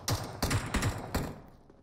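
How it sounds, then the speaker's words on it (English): A short burst of M4 rifle fire in PUBG Mobile, four sharp shots spaced about a third of a second apart, loud and close, with a fading tail and no talk. "Busy taking some M4 shots on Pittsburgh Knights"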